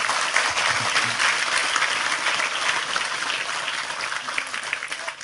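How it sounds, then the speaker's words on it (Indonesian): A live audience at a Maiyahan gathering breaks into loud, sustained applause, dense clapping filling the room evenly for several seconds with no speech over it. "Sekali lagi tepuk tangan lebih keras untuk Tejo."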